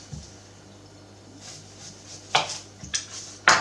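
A sharp kitchen knife slices the top off an onion on a board, heard as a few crisp, close cuts and knocks spaced apart, the last ones loudest, over a quiet background hum.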